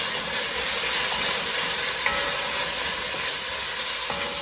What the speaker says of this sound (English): So I'm going to add a little garlic to the pan, or a lot of garlic to the pan